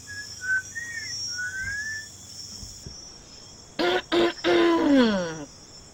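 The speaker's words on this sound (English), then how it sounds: "Did I just hear a whistle?" Shrill rising-and-falling whistles, a few short melodic phrases near the start, then a loud run of bright, sliding whistle blasts, clear and close with no talking.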